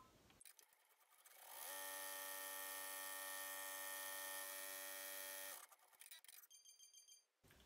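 An embroidery machine stitches a tacking line to hold down the lining of an in-the-hoop double zipper bag, a loud, steady high whir that runs for about four seconds and then stops.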